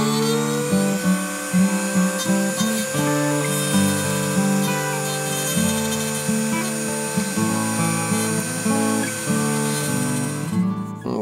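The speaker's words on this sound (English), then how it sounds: "that's what this little machine got invented for. It's like a little milling machine." Small milling machine cutting away the tang of a guitar fret, a high, whining motor tone that shifts pitch repeatedly as the cut loads and eases, fairly loud and close, with no speech.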